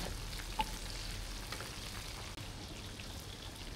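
Fish frying in hot oil until crisp, a steady soft sizzle with faint crackling spits throughout, fairly quiet and alone with no voices.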